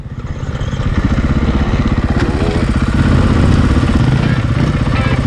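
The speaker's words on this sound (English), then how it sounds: "I need that engine braking" Motorcycle engine on an off-road trail, a steady pulsing mid-range drone with rhythmic firing under load during engine braking, loud and close throughout, with no talk.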